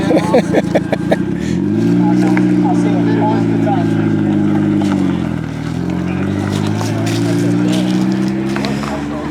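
A 1200 hp three-rotor 20B RX-7 drives off, its engine a loud, steady drone that rises and dips in pitch as it pulls away, with people talking over it.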